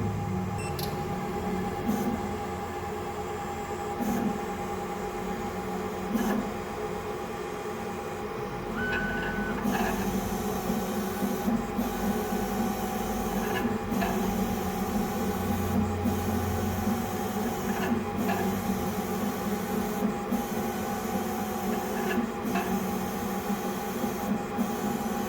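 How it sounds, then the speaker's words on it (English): A printer running a co-axial printing job gives a steady mechanical hum with faint repeated ticks and short motor whirs throughout, alone with no talking. "So the coaxial printing is done."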